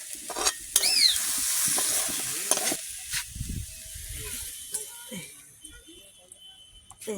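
Pumpkin fries in oil in a pan, sizzling steadily with intermittent clinks and scraping, while a voice speaks briefly at times over the frying.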